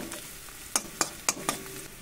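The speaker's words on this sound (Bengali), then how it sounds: "পেঁয়াজটা বেশ ভাজা ভাজা মতো হয়ে এসছে" Onions fry in a pan for an egg curry, giving a soft continuous sizzle broken by four quick spatula scrapes and stirs, with no voices.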